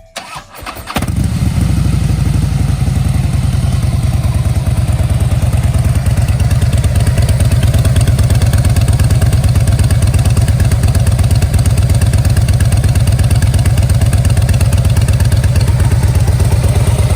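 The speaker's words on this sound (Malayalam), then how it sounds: "നമുക്ക് ഈ ഫാറ്റ് ബോയ് ഒന്ന് സ്റ്റാർട്ട് ചെയ്തിട്ട് സൗണ്ടൊക്കെ ഒന്ന് ചെക്ക് ചെയ്യാം" A 2012 Harley-Davidson Fat Boy starts with a brief crank and catch, then settles into a loud, close, steady idle with a lumpy, pulsing V-twin rumble and some mechanical clatter that runs on without break.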